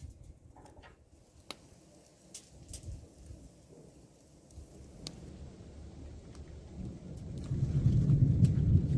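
Thunder rumbles and rain falls over an outdoor grill cooking rabbit in Tuscany, with faint sharp cracks early and a low, steady rain roar that swells louder toward the end; no one speaks.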